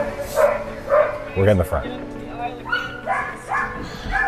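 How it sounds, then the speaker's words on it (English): Sled dogs at a Skagway, Alaska dog sledding camp bark and yip excitedly in repeated bursts, close and loud, while excited people talk over them. "My puppies!"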